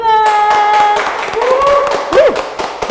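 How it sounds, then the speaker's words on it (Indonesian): Audience at a student innovation awards event clapping in a series of sharp, evenly spaced claps with a sustained musical tone underneath, close and fairly loud, while a voice speaks over the clapping. "Boleh tepuk tangan."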